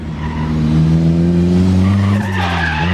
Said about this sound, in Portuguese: Puxou o freio de mão.